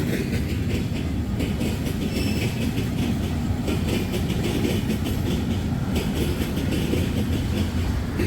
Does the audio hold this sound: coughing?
no